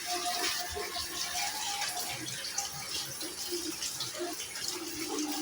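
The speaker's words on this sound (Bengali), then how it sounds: "আমি পুরো এই মিশ্রণটা এর মধ্যে ঢেলে দিচ্ছি।" Mango ice cream mixture poured into a small container, a soft continuous trickling and splashing of liquid close by, faint and without speech.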